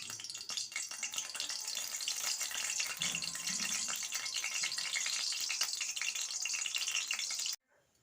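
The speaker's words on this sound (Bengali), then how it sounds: "ফোড়ন দিয়ে ফোড়নটা ভালো করে ভেজে নেব।" Whole spices sputter in hot oil, cinnamon, cloves, black pepper, cumin seeds, bay leaf and dried red chilli, tempered for potato curry. The crackle and rattle is steady and close, then stops abruptly at the end.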